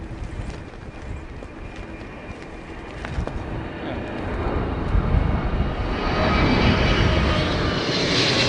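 An airliner at Heathrow Airport during Storm Darragh, a loud jet engine roar that swells steadily over several seconds, mixed with wind noise.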